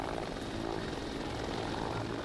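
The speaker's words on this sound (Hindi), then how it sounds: "डिप्टी सीएम केशव प्रसाद मौर्य के हेलीकॉप्टर से एक प्रोग्राम में टेंट हवा से उड़ गया" A deputy chief minister's helicopter at an event helipad, its engine and rotor giving a steady, loud, broadband roar that holds without a break.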